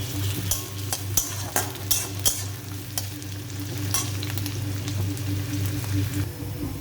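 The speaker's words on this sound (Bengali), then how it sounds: "তেলটা গরম হয়ে গেছে, পেঁয়াজটা দিয়ে দিলাম।" Onions frying in hot oil give a steady close sizzle, broken by sharp scraping stirs in the first few seconds, with no one speaking.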